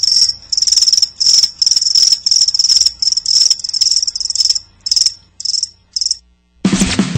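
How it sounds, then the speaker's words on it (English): Crickets chirping as a radio ad sound effect, a loud, steady pulsing trill in regular bursts that thin out and stop, followed by a sudden burst of another sound at the end. "That's right, crickets."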